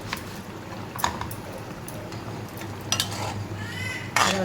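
A utensil scrapes and clinks against a pan as eggplant is stirred for a lablab bean pod curry, with soft sizzling underneath and a few sharper metallic taps.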